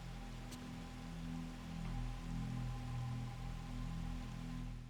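Steady rain in the survival horror game Fatal Frame 3: The Tormented, a constant soft wash of falling water with a low hum underneath, continuous and even throughout.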